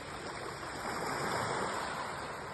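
Sea waves on the beach at Tsandripsh, Abkhazia, in the early morning: a steady, soft wash of surf rolling in, faint and continuous, with no voices.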